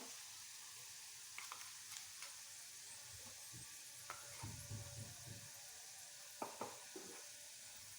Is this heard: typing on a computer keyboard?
no